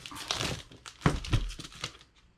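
A plastic bag wrapped around a Japanese import 4K Blu-ray box set is handled, giving a burst of close crinkling and rustling with a few sharper crackles.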